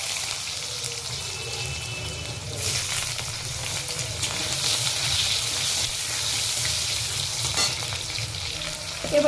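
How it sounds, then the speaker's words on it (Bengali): Potatoes frying in hot oil after fish has been fried, a loud continuous sizzle with stirring and scraping in the pan that swells slightly partway through, no voices. "এবার আমরা এই তেলের মধ্যে আলুগুলোকে একটু ভেজে নেব।"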